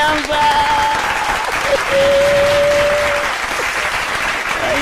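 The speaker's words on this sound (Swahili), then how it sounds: "Makofi." Sustained crowd applause at the Inooro FM 23rd-anniversary event, loud and continuous, with a few shrill whistle-like tones rising over the clapping.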